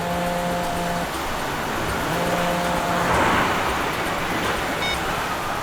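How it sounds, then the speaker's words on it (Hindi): A car driving on the road, heard from inside as a loud, steady engine and road rumble with a slight swell midway and a few tonal hums, no voices. "गाड़ी चला रहा हूँ, ऑफिस पहुंच के फोन करूंगा तुम्हें।"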